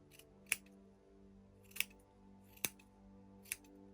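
Scissors snip wool trimming the white beard of a handmade Christmas gnome decoration, four separate crisp cuts spaced unevenly over a steady low background hum, close and fairly quiet.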